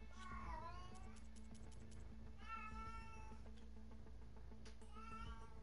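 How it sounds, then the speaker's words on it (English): A pet cat at home meows loudly three times, drawn-out wavering cries spaced a couple of seconds apart, close to the microphone over a steady low hum. "my cat is just blaring the meowing right now"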